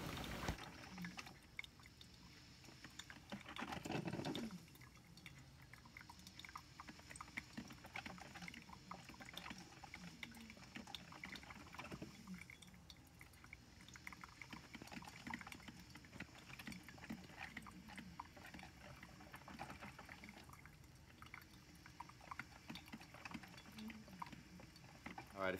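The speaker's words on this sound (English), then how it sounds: "if you get a coffee pot that makes sex noises, I definitely want to hear about it." A coffee maker brews with faint, continuous gurgling and bubbling water noises that go on and off in low bursts over a long stretch, heard alone.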